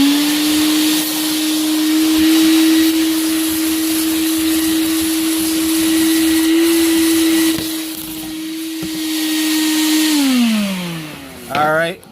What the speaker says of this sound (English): So you're gonna vacuum it.